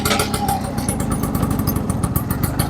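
A classic Vespa scooter's small engine pulls away in first gear, loud and close with a steady buzzing, clattery note that holds throughout.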